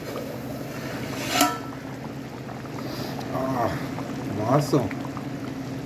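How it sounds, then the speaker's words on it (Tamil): Chicken salna gravy simmers in a covered pot for parotta, a steady low bubbling wash running under a voice throughout. "10 நிமிஷமாக நல்லா கொதிச்சிட்ருக்கு."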